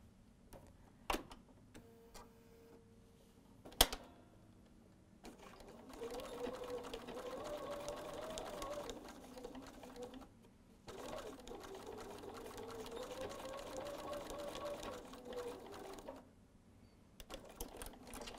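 A domestic sewing machine stitches across a quilted tote bag strap in two steady runs of fast, even mechanical whirring, broken by a pause and preceded by a few sharp clicks and taps, fairly quiet and without talking.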